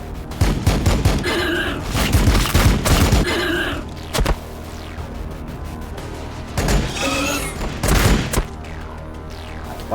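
Gunfire from the Warhammer 40,000: Battlesector video game, with several loud bursts of rapid shots and booms in clusters separated by short pauses over a low background hum.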